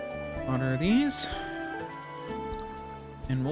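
A watering can splashes onto crops in Stardew Valley in short, soft liquid bursts, set against bright, tonal game music and chiming effects.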